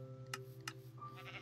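A sheep in the Minecraft Feed The Beast modpack gives two short bleats in quick succession, faint over a low steady hum.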